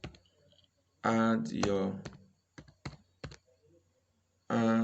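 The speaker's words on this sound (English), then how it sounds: "So you now go and type what you expect in there" Computer keyboard keys clicking in short bursts of typing, with someone speaking between the bursts.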